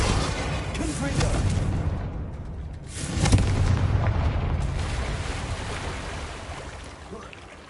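Confringo fire spell blasts in the Hogwarts Legacy video game, with loud booming explosive bursts and rumbling, a sharp impact near the middle, over a continuous roaring background.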